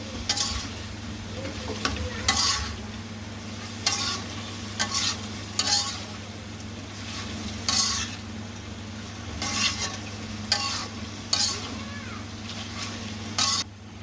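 Turmeric, coriander and chilli powders being stirred into frying bhuna khichuri, a soft steady sizzle under a low hum, punctuated by about a dozen rhythmic scraping strokes of a spoon against the pot, close and without speech.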